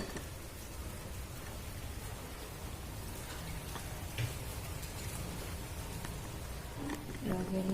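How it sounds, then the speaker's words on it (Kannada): Steady rain falling during a heavy downpour in a village, a dense hiss of drops on surfaces continuing throughout, with a few louder drips near the end. "ಮಳೆ ಬರ್ತಾ ಇದೆ."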